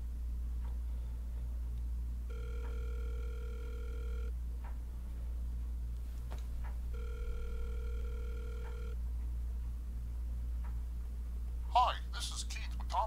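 A telephone rings twice in long electronic bursts before the call goes to voicemail, over a steady low hum, with a brief clatter near the end.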